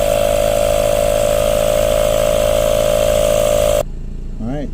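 A portable tire inflator pumping up a flat car tire from 20 to 36 psi, a loud steady buzzing drone running close up until it cuts off abruptly, followed by faint background noise and a brief voice.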